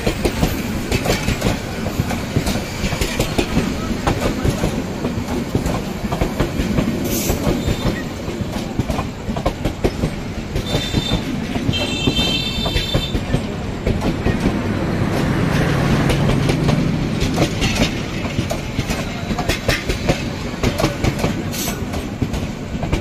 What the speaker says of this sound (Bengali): ট্রেন দূরে দূরে যায়